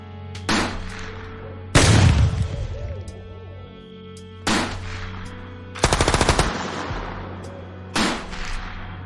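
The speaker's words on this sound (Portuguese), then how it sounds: "e eles não hesitaram em atirar" Bursts of gunfire as a sound effect in a Portuguese-language horror audio story, about five loud separate volleys spread over several seconds, some rattling like rapid automatic fire, with a low droning background between them.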